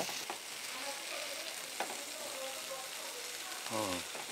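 Chicken fries in a pan with a constant close sizzle, soft stirring scrapes and a short clink, while a voice speaks briefly toward the end.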